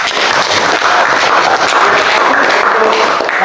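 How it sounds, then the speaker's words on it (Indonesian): Audience applause during a Christian religious education class, a dense, loud, continuous wash of clapping that fills the whole stretch without pause. "Ya, baik, tepuk tangan dulu."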